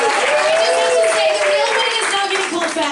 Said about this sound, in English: give them both a round of applause, ladies and gentlemen